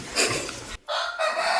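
A rooster at a village home crows loudly and close, one long call split by a brief pause, alone with no talk.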